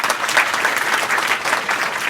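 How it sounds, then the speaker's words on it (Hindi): A room of students at a girls' inter college in Azamgarh claps for a girl, brisk steady applause from many hands, close and continuous throughout. "वेरी गुड, ताली बजाओ इनके लिए।"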